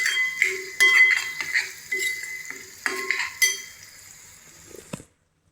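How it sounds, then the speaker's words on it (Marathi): Coriander powder and Khandeshi black masala are sautéed in a pan with a metal spoon, giving bursts of scraping and ringing clinks in an irregular rhythm, close and fairly loud. The sounds stop abruptly into silence near the end. "त्याला चांगला परतवून घेऊया."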